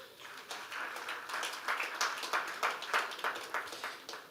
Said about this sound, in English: you can give yourselves a well-deserved round of applause